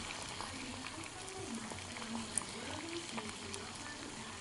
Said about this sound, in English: Boiling up the potatoes